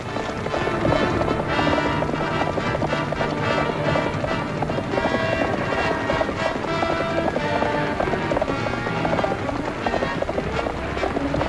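Horses gallop in a 1950s Western television episode, their rapid hoofbeats running continuously and loudly under a dense, busy mix of music and outdoor noise.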